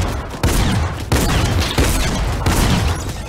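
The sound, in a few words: gunshots in the video game Fortnite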